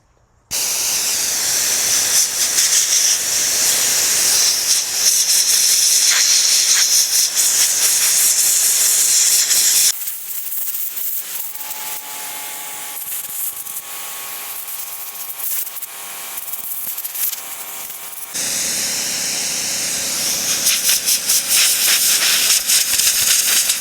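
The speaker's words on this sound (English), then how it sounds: "You just need to get everything hit with the blasting media" Blasting media is sprayed onto a titanium red dot cover, giving a loud steady hiss that carries on for long stretches, changes tone partway through and then returns, with no talking.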